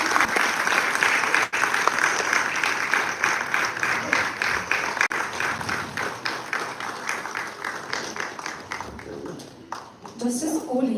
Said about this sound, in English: I request everyone in the audience to please keep the applause rolling